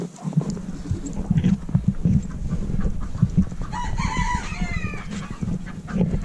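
Chickens cluck and a rooster crows on a snowy homestead morning, with steady near clucking throughout and one crow rising midway.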